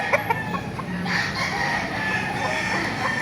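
A rooster crows amid the steady din of a chicken market in Baliuag, Bulacan, with clucking fowl and busy crowd noise filling the background.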